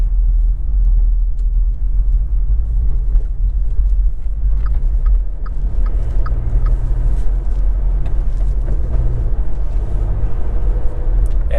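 Low, steady rumble of a bus engine from inside while riding on the road to Scarborough, with road noise throughout and faint rattles, no clear talk.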